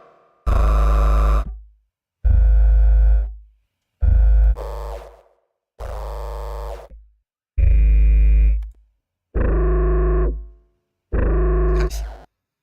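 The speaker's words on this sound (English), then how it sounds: "I will bring in my favorite distortion unit called Rift" Synth notes pushed through a Rift distortion unit, seven loud and gritty bursts about two seconds apart. Each has a heavy low end and buzzy, harsh overtones, with silent gaps between them.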